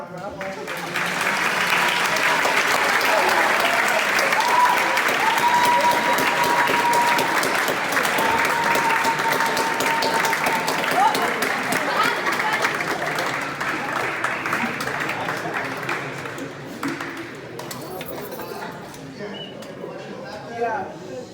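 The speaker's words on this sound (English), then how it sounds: "So let's give it a big round of applause." Sustained audience applause at a school violence awareness event, loud and steady for about twenty seconds before thinning out near the end.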